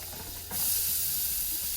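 Peppers hitting hot oil for chili, a sudden loud hiss that erupts midway and keeps sizzling steadily.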